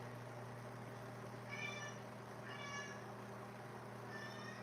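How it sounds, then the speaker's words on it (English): A cat meows three times indoors at moderate distance, each call a short rising-falling cry spaced about a second apart over a steady low household hum. "You hear the cat?"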